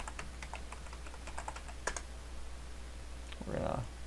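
Quick clicky keystrokes on a computer keyboard come in an irregular burst, close but faint, followed by a short pause and a soft thump.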